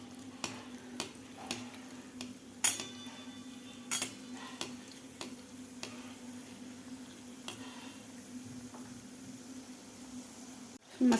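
Modak dumplings with a coconut filling deep-frying in hot oil, a steady close crackling sizzle with occasional sharp clinks of a slotted spoon against the pan.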